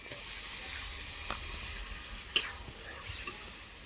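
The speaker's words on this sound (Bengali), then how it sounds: "আমি কিন্তু এখন জল দিয়ে দেবো।" Water hitting a hot pan of sautéed chicken in a village kitchen gives a steady, close sizzling hiss that runs throughout, with a few brief sharp pops and crackles.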